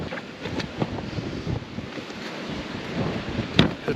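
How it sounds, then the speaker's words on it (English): Strong south wind blows hard outdoors on a wet, rainy trapline day, a steady loud roar of gusts buffeting the microphone with no one speaking. "It's blowing hard. Still got a south wind, that's why it's so warm."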